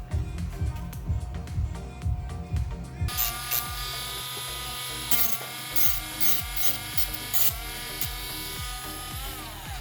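A steady high-pitched power tool whirs continuously, buzzing with a grinding, sanding character and slight pitch shifts, close and fairly loud.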